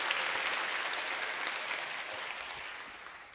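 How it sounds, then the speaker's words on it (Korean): An audience gives a round of warm applause, dense steady clapping that fills the space and slowly fades. "다시 한번 뜨거운 박수를 해주시고요."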